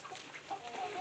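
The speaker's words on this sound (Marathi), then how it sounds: "गावरान कोंबड्या" Free-range desi gavran chickens cluck softly in a brief, faint burst of short calls at some distance.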